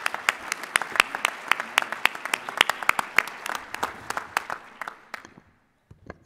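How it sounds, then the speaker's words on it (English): Audience applause at a chamber of commerce legislative breakfast for an Oklahoma state senator, a moderate crowd clapping with distinct claps that thin out and fade to silence near the end. "Let's give a round of applause to Senator Treat."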